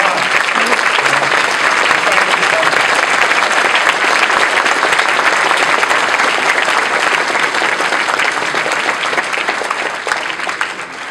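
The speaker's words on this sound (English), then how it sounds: "give a round of applause for all the people that donated" A large audience claps at a remembrance event in a long, loud, dense burst of applause that holds steady and fades slightly near the end.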